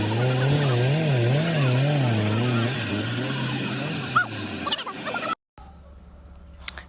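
A saw-sharpening machine at a sawmill whines loudly with a wavering, cycling pitch, joined by scraping metallic squeals before cutting off abruptly near the end, with faint background noise after.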